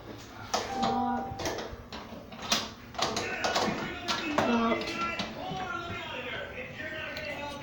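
Doors in a family house are tried to see if they are locked, giving a run of close clicks, taps and rattles from handles and latches, with voices around.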